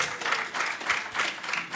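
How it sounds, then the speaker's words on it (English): An audience claps for a panel of presenters at a development agency partner meeting, brief steady applause with gentle pulsing swells, moderately close. "So a big round of applause."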